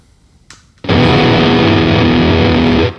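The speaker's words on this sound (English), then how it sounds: "that's the sound of a pitch shifting pedal getting confused." Guitar chord played through an MXR Blue Box octave fuzz pedal, a sudden loud, heavily distorted sustained blast with warbling pitch-tracking artefacts that holds for about two seconds, then cuts off, after a faint string touch beforehand.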